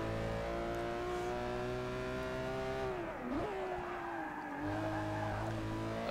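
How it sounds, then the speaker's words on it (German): Ferrari F12 drifting in Forza 6 Apex: a high, wavering tire squeal slides and bends in pitch over the steady drone of the V12 engine, sustained and loud, with no talking. "Ich bin jetzt nur am Driften."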